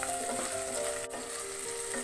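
Asafoetida and curry leaves sautéing in a pan make a quiet, continuous sizzle with a faint stir or tap midway.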